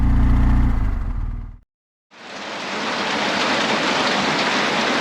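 Heavy rain pours down in Stewart during a motorcycle trip through Alaska and Canada. A short low rumble cuts out, and after a brief gap a loud, dense, steady hiss of rain comes in close.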